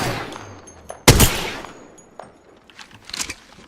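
Gunfire in Apex Legends: one loud sharp blast, then scattered lighter shots and a short burst of rapid fire trailing off.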